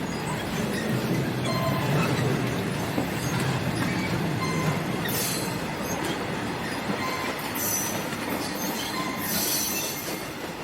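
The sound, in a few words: passenger train passing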